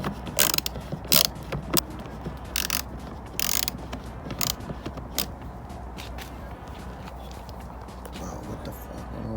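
Wrench ratchet clicks and creaks while loosening a bolt on a car's VANOS solenoids in an engine bay, coming as several short bursts at close range over a steady low background hum.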